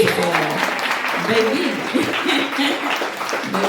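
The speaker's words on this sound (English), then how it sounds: "Can we get a clap for that?" An audience claps and cheers at a live comedy or talk show, a steady wash of applause lasting several seconds with voices mixed in throughout.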